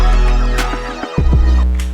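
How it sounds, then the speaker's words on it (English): A dense FL Studio beat with layered risers stacked on each other, panning, automation and a small impact: a thick electronic mix with a heavy low bass, sweeping tones, and a brief dropout before the hit. "it's a big riser on top of another riser, a little bit of an impact"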